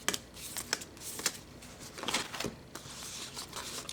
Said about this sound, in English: But overhand shuffle is smooth. It doesn't catch.